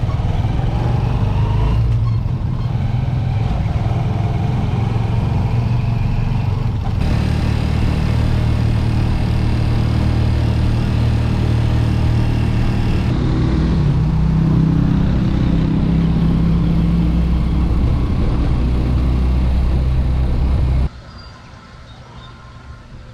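A motorized pedicab on Samal Island carries a passenger along the road, its engine droning loud and steady with shifts in pitch as it travels, then dropping away abruptly near the end.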